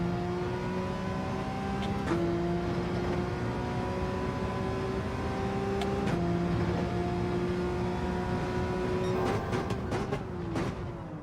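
Porsche race car engine in Gran Turismo 7 on the Fuji circuit, a loud, steady whine climbing in pitch through each gear with sharp drops at the shifts, heard alone and close.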